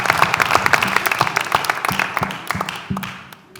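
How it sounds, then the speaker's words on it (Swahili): A studio audience claps for the manager on a Kenyan TV comedy show, a short burst of close, uneven hand claps that thins out and fades toward the end, with some crowd noise under it. "Pigeni manager makofi mazee akikama."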